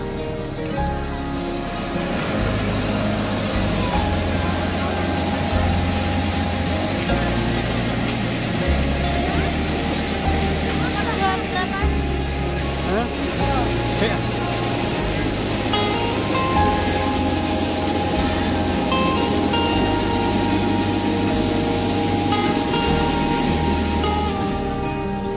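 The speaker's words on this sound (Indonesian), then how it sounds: "akhirnya kami boarding juga di pesawat yang menuju ke Jakarta ini" A passenger airplane flying to Jakarta fills the cabin with a steady, loud engine roar and broad rushing hum that never lets up for the whole stretch.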